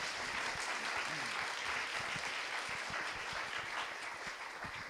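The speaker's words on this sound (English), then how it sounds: "let's give a round of applause for the panelists" Audience at a university panel discussion gives steady applause for the panelists, a dense wash of clapping hands lasting about five seconds with no other sounds.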